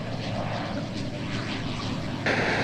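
A yellow North American T-6 comes in to land at EAA AirVenture Oshkosh, its steady propeller engine roar filling the air with a broad drone that swells slightly near the end.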